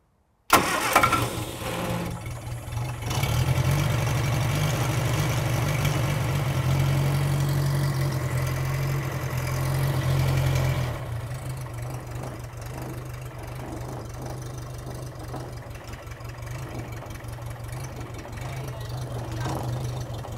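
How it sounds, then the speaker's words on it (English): An Allett Mk1 lawn mower engine, cold, cranks and catches, then runs at a loud, steady idle with a low throbbing note that later settles quieter while it keeps running. "Can we start it up? I'll start it up"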